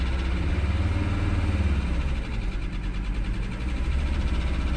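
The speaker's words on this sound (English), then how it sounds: "There we go, we're getting oil pressure, it's running. Giving it some throttle." An old Mercedes 300SD diesel engine, revived after sitting dead, runs close by with the throttle held open, a loud steady diesel clatter and rumble with no pauses.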